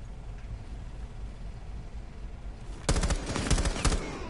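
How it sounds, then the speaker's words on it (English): Machine gun left firing in a Rainbow Six match: after a stretch of quiet background, a loud burst of rapid automatic fire breaks in and keeps rattling in sharp, closely spaced shots. "Someone left their machine gun stuck on."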